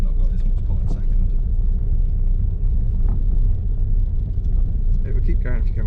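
A diesel car's engine strains and rumbles in second gear during a mock driving test, a low steady drone running throughout while people talk inside the cabin.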